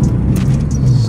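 A Mitsubishi Lancer with a fixed misfire and power loss drives on a test run, its engine and road noise forming a steady loud low rumble heard from inside the car.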